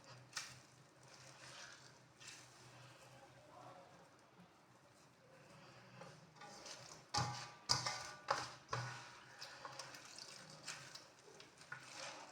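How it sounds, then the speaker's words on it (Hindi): Water is squeezed by hand out of grated radish for mooli paratha in a home kitchen, giving faint, wet squishing and dripping sounds that grow into a series of squelchy bursts, with quiet background noise and occasional speech. "मैं हाथ के साथ निकाल रही हूँ पानी।"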